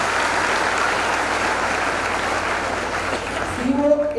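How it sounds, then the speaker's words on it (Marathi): An audience of students at a student guidance event applauds steadily at close range for about three and a half seconds, and then a voice begins talking as the clapping fades. "सर्वांनी टाळ्या वाजवल्या सगळ्यांच्या"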